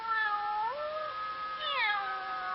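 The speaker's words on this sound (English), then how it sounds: "and the cute little kittens in his own house" A kitten meows twice in an animated 1960 Bible cartoon about Noah's Ark, two clear rising-and-falling mews, close and distinct over a quiet background.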